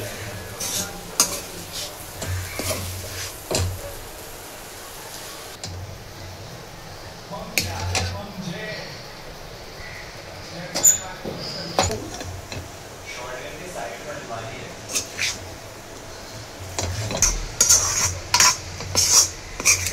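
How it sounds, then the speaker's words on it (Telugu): Noodles stirred in a frying pan, with scattered scraping and tapping of the utensil against the pan over a faint sizzle, irregular and close, with a few quiet sounds from the person cooking. "నూడిల్స్ని అయితే బాగా కలుపుకోవాలి."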